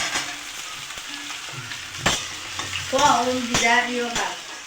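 Onion and capsicum stir-frying in a home kitchen pan, a steady close sizzle with rattling scrapes of stirring throughout, while people talk briefly over it.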